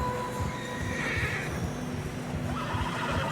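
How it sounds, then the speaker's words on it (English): Horses neigh and whinny with clip-clopping hooves as they struggle through fresh snow along a narrow mountain path in a video game, a steady close-up of snorting, stamping animals with a sustained whinny near the start. "Horses are struggling."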